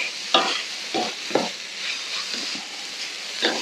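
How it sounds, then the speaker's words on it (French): Chinese cabbage and chicken tossed in a wok, with rapid stirring strokes scraping the pan in quick bursts over a light sizzle and no voices. "Donc je vais rajouter mon chou chinois, voilà. Et de la même manière, je remue."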